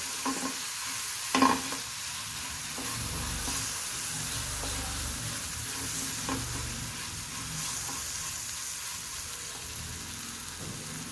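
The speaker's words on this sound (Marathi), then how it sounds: "आलं, लसूण, हे आपण छान परतून घ्यायचं याच्यात" Ginger, garlic and spices sautéing in a pan for matar paneer, with a steady sizzle and occasional stirring scrapes and clinks throughout, close and continuous with no talking.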